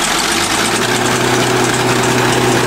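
A bulldozer's diesel engine idles with a loud, steady low rumble and vibration, running continuously and close by with no break.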